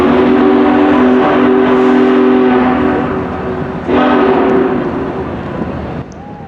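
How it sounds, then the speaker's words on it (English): Union Pacific 4014 steam locomotive whistle sounds loud and close at a Cheyenne passenger depot, a long sustained multi-tone chord blowing almost continuously, with a brief break midway and a fade near the end over crowd and train noise. "I love the sound of that whistle."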